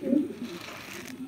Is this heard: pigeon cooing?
yes